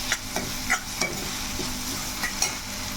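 Raw masala paste frying in a pan for a drumstick chicken gravy curry, with a steady hiss of sizzling and repeated scraping strokes of a spoon stirring close by.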